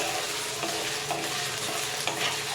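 Potatoes for sabudana khichdi frying in oil while being stirred, a steady dense sizzle with faint scraping of a spoon in the pan, close and continuous with no talk.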